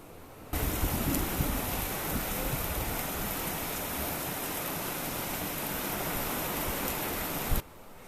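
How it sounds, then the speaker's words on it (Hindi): Heavy rain pours down outdoors in a constant dense hiss and roar, loud and unbroken, starting and stopping abruptly at the edges with no voices. "कितनी तेज झमाझम बारिश हो रही है।"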